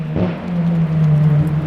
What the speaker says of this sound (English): As you can see the car going past there, and I can certainly hear it.